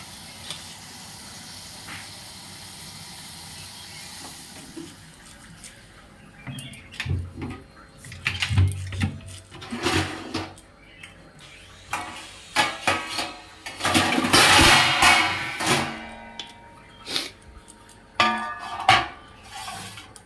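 Knife chopping cucumber and guava, scattered clicks and knocks of a blade on a board that come in irregular bursts, growing busier and louder in the second half, close by.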